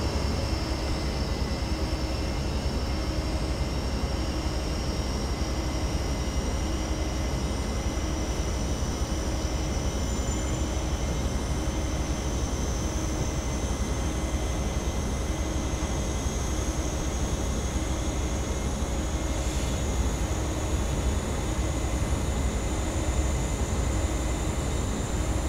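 Class 43 diesel locomotive on the Great Western Main Line pulling away after brake release, a steady loud engine drone with a faint rising whine, continuous throughout with no talking.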